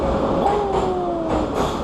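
Kyiv metro train running underground, a steady loud rumble with rising and falling whine tones as the carriage moves, no talk over it.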